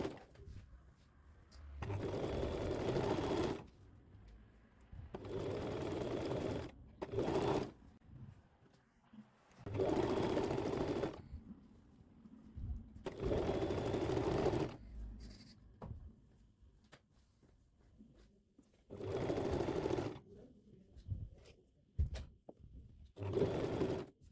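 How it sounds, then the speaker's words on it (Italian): A sewing machine stitches a blouse seam one presser-foot width wide in several separate runs, each a steady buzzing whir lasting a few seconds, with quiet pauses between runs and no talking. "Poi cucio una larghezza piedino e poi tolgo l'imbastitura."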